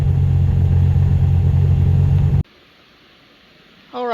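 A sick Centurion engine runs loud and steady with a low rumbling drone, then cuts off abruptly, leaving near silence before a new rising sound begins at the end.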